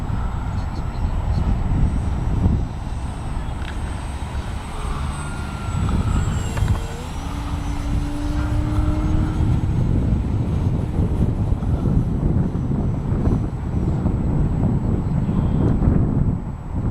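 A Parkzone P-47 RC model airplane drones overhead in heavy wind, its small motor buzzing and shifting pitch as strong gusts rumble across the microphone throughout.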